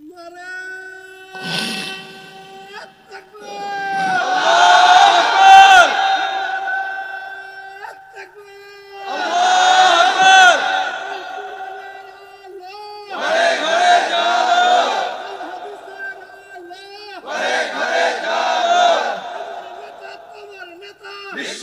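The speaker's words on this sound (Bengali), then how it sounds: "লিল্লাহে তাকবীর, জোরে একজন তাকবীর দেন তো দেখি" A large gathered crowd at a Bangla Islamic sermon gathering loudly chants the takbir in unison, four long swelling shouted responses separated by pauses, with a single voice leading in before them.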